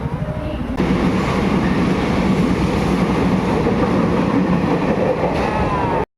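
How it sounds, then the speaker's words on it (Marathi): A local train rumbles steadily with a loud, continuous rattle of wheels on track, building in intensity after a quieter opening second. "तर आता आम्ही बारा बत्तीसची लोकल पकडली"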